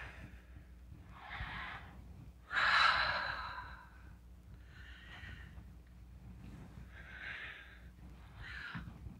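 A person breathes slowly in through the nose and out through the mouth during a balance exercise, giving several soft, close, airy breaths at a steady pace, with one stronger exhale early on.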